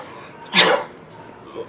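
A single short sneeze from a young woman bursts out sharply, close and fairly loud, then fades into quiet room noise.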